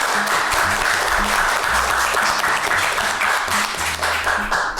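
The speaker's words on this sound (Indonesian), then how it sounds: "Tepuk tangan buat Rukita sekali lagi teman-teman." A crowd applauding steadily, dense clapping from many hands that holds at a loud, even level throughout.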